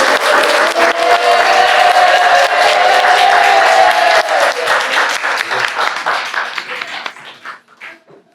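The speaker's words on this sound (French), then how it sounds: "Vous pouvez les applaudir" Wedding guests applaud a newlywed couple at a civil ceremony, loud, dense clapping with a brief voice in the crowd, fading into scattered claps near the end.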